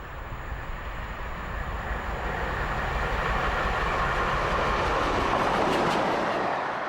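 Steam locomotive Taw Valley, a Pacific, races through Micheldever at speed with a loud, continuous rushing roar and rail rumble that builds steadily and stays close and dense throughout.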